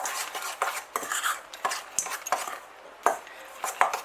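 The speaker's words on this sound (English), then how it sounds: "Once we put them in there, give it a good mix up." Choc chip pikelet batter is mixed in a bowl, with a steady run of light clinking and scraping knocks of a utensil against the bowl, close and fairly quiet.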